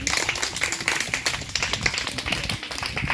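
Church congregation clapping together to acclaim Jesus, a dense, steady patter of many hands filling the room at close range, with no voice over it.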